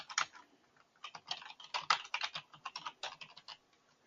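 Typing on a computer keyboard: irregular bursts of close, crisp key clicks in quick clusters with short pauses between, heard alone without talk.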